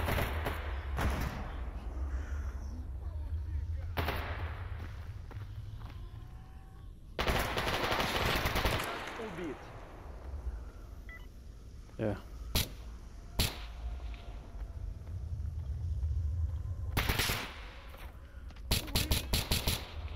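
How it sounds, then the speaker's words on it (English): Scattered gunshots and short automatic bursts from the game STALKER Anomaly ring out at varying distances, some sharp and close, others fainter, with a player talking quietly between shots. "I gotta figure out who's shooting these guys."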